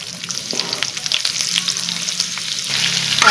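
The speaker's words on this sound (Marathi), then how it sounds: "कांदा चांगला परतून घ्यायचा आहे." Two sliced onions frying with whole spices in a pan for chicken biryani, giving a steady, close sizzle with occasional stirring scrapes that grows slightly louder toward the end.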